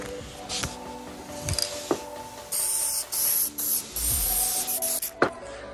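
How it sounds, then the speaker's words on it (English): Short bursts of spray adhesive hiss several times in a row, close by, applied to boat vinyl panels, separated by brief pauses and light handling clicks. "get some spray adhesive. Spray on the bottom here"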